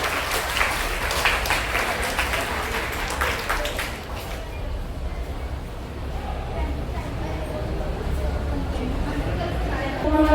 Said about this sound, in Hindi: सभी कृपया इसके लिए तालियां बजाएं